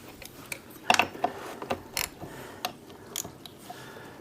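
A wrench loosens a bolt running through a brake setup on a small budget vehicle, producing faint ratcheting clicks and metallic ticks scattered over several seconds with a few sharper snaps.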